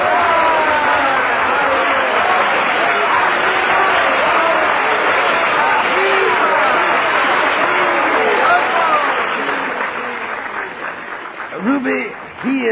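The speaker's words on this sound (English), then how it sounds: "the applause and cheers force him to do a short encore." Audience applause and cheering for a pianist fill a concert hall, a dense, steady roar of clapping and voices that thins toward the end as scattered calls and speech come through.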